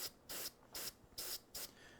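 An airbrush sprays paint in four short, even bursts of hiss, each about a quarter second long. They come in a steady rhythm, close and fairly quiet, and a fainter hiss trails after them.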